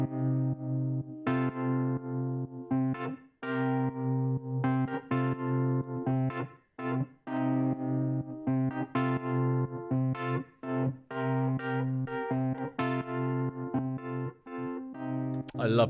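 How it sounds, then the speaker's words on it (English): A solo organ part from a music mix plays sustained, buzzy chords in a steady stream of short phrases, fairly loud and dry, with no other instruments or voices. "The organ, so that sounds like this."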